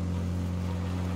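Car engine in the PUBG video game, a steady low droning hum heard close and continuous for a moment with no other sounds.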